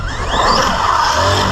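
A Team Associated Rival MT10 electric RC monster truck runs nearby with a high whining motor that rises and falls as it accelerates, plus brief tire scrubbing, fairly loud throughout.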